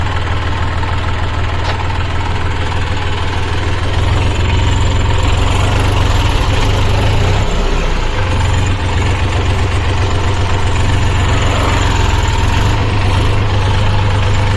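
A Massey 7250 tractor engine runs continuously up close, a loud, steady low chugging rumble with rattling vibration that holds throughout without pause.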